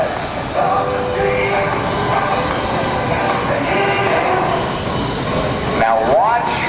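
Aerobatic airplane engine droning steadily at an airshow as the aircraft pulls into a hammerhead turn, a continuous loud hum with a rising whine near the end.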